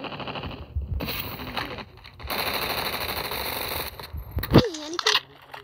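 Loud automatic gunfire in the video game Call of Duty, long rattling bursts broken by short gaps, with a brief sharp whoosh near the end and a voice talking over part of it.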